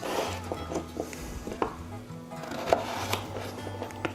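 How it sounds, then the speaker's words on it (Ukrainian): Soft knife taps on a cutting board as a carrot is diced into cubes, irregular and close, over a low background hum. "нарізаємо морку. Морку ми нарізаємо"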